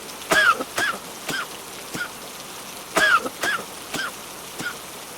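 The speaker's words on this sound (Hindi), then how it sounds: "गोरी कौवी तेज बारिश में भागी जा रही थी और खांसे जा रही थी।" Rough, hoarse coughs from a crow come in short bursts, roughly ten over a few seconds, with a faint steady hiss of heavy rain underneath.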